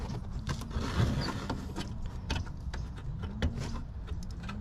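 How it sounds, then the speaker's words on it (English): A hand ratchet loosens a 7 mm or 9/32 screw holding the fender and bumper near the grille of a GMC Sierra 1500: quick, faint clicking ticks in an uneven run over a low background hum. "I went ahead and loosened it with my ratchet"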